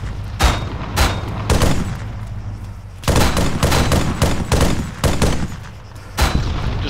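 Repeated bursts of enemy gunfire in Arma 3, sharp loud shots cracking in clusters over about seven seconds against a steady low engine rumble, no talking.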